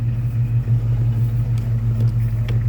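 A 1986 Ford Mustang with a 302 V8, stock cam and 600 carburetor runs close by, giving a steady, deep, even rumble with no change in pace.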